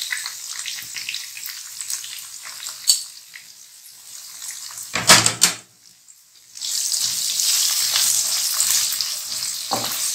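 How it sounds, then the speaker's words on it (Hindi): Onion frying with garam masala for Hyderabadi bhuna keema, a steady close sizzle with a few stirring clatters and a brief quiet gap before the hiss returns louder and continuous. "प्याज को गरम मसाले के साथ फ्राई करना है।"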